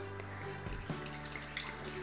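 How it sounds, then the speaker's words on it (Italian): Tap water runs steadily into a jug in a kitchen, 200 grams poured for a dough, a soft continuous splashing stream at close range with no one talking. "mettiamo nel boccale l'acqua"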